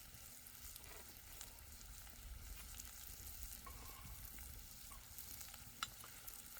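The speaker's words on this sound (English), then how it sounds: "You put a little of the step twos in with the onions along with some butter, a little bit of seasoning, and just let them saute up" Onions sautéing in butter with seasoning on a hobo stove outdoors in an Idaho forest, giving a steady, soft sizzle and crackle with a few small pops, heard alone at a modest level.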